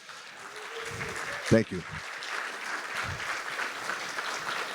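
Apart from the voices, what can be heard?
audience applause for firefighters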